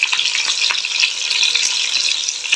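Curry leaves hit hot oil in a pan for a masala drumstick gravy, giving a loud, bright, continuous crackling sizzle with fine spitting pops, close up and with no talking.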